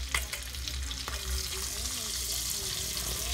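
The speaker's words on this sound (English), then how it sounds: "Just gonna cook down some of the fat that's on the steak." A ribeye steak fries in oil with herbs in a cast iron pan, giving a steady close sizzle and crackle with a few sharper pops near the start and no talk.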